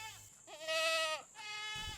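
Goats bleat on a 25-acre goat farm in Thornhill, Tennessee, two drawn-out wavering cries, one after another, near and clear.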